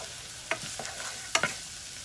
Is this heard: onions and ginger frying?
yes